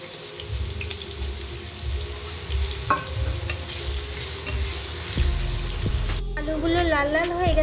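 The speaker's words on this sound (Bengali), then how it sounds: "তেলটা গরম হয়ে গেছে, এবার আলুগুলো ভেজে নেব" Potatoes dropped into hot oil for a vegetarian soybean dish, a loud crackling fry with heavy low rumble, a sharp clack partway, then a tonal whine joining near the end.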